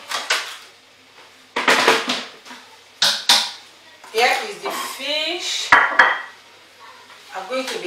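Fish ingredients being mixed in a bowl, with scraping and clinking of a utensil against the dish in separate bursts, close up, as a voice speaks between the strokes.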